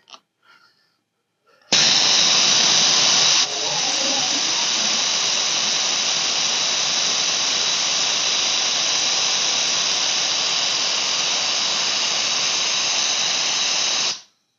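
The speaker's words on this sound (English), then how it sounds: "And let's get this one on the cleaner." A Harbor Freight spark plug cleaner blasts a sooty spark plug, a loud continuous sandblasting hiss that starts abruptly after a few clicks, shifts slightly in tone early on, then holds steady before stopping.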